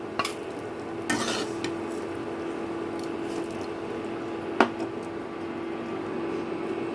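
Fried rice is scooped from a pan into a separate bowl, heard as soft scraping and a few sharp metallic clinks of a spoon against the pan over a steady faint hiss, close and without talk.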